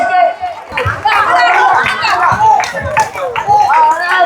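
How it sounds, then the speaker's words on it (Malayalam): A group of women at an Onam celebration among cashew factory workers clap their hands in scattered bursts during a game. Lively chatter and voices run throughout and partly mask the claps. "എല്ലാരും ഒന്ന് കൈയടിച്ചേ"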